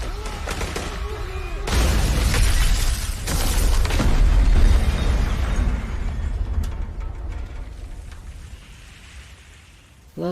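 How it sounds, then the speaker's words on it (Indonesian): A heavy grenade explosion in a film bursts out, followed by a long rumbling, crackling roar that slowly dies away. "lalu John melempar granat yang merupakan senjata terakhirnya"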